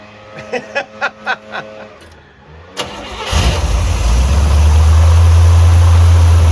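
Corvette C3 firing up for the first time in two years: several sharp cranking pulses, a pause, then the engine catches into a loud, steady low rumble up close.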